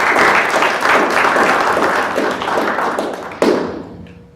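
Applause at a city council meeting honoring volunteers: a roomful of people clap steadily, thinning toward the end, with a sharp thump near the finish as the clapping fades.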